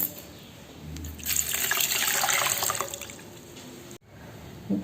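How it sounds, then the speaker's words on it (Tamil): Water poured into a bowl of tamarind and salt for soaking, a steady splashing trickle that swells in the middle and tapers off, close and alone with no talk. "தண்ணி சேர்த்து ஊற வச்சுருங்க."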